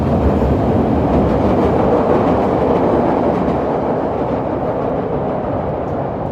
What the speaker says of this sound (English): we'll get this train going by here